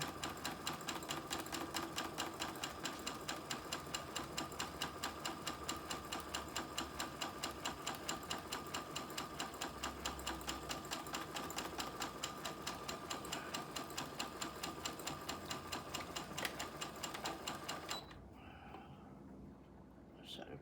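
A sewing machine runs steadily and close for most of the stretch while a cow head appliqué quilt is stitched, its rapid even chatter filling the room before stopping near the end, with quiet talk underneath.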